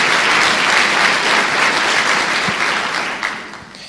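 A church congregation breaks into dense, sustained applause, a crowded wash of many hands clapping that holds steady and then tapers off toward the end.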